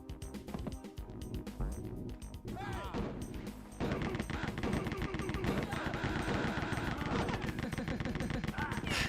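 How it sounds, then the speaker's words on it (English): Gunfire in the video game Rise of the Triad: Dark War arrives in rapid, dense bursts that grow louder midway, layered over busy game effects. "Just let him shoot me so much because I couldn't figure out where he was"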